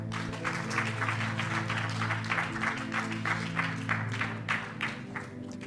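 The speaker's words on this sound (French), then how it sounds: "acclamons pour le Seigneur" A church congregation claps and cheers together, dense steady applause filling the room throughout, with music or voices humming underneath.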